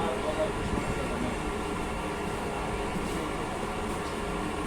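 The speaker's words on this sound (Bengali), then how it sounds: "আমাদের ট্রেন ছেড়ে দিয়েছে কমলাপুর থেকে" The Buri Mari Express, just departed from Kamalapur station in Dhaka, gives a steady, moderate rumble, as if heard from inside a moving carriage, with no distinct talking.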